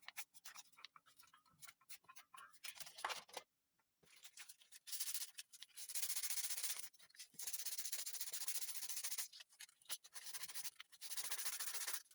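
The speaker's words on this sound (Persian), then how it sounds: "از یه تیکه آلومینیوم که میخوام اول حرارتش بدم و با سنباده خوب تمیزش کنم" Rhythmic scratchy sanding strokes rub sandpaper back and forth on a piece of aluminum, starting in short quick passes and later becoming longer, louder continuous scrubbing with brief pauses.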